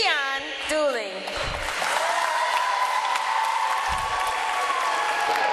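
Audience welcoming a former NBA player as a speaker, bursting into sustained, loud, dense clapping and cheering after a man's amplified introduction, the applause filling the hall and holding steady to the end.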